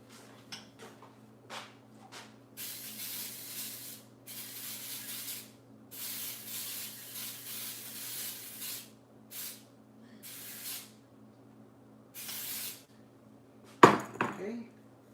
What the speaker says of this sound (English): Okay, we have the pan sprayed down.